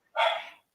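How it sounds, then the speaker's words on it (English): A single short bark from a nine-year-old Shiba Inu, one clear yip-like call standing alone against silence, fairly close. "if you can hear my dog in the background"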